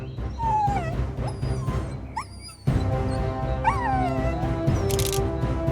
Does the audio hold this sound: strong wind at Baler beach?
no